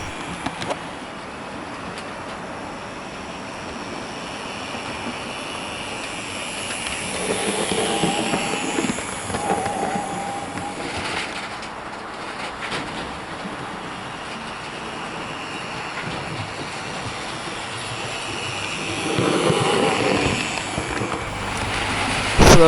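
A Hornby LNER J50 model locomotive runs fresh from the box, a low continuous mechanical hum and rumble with gentle swells in intensity, alone without speech.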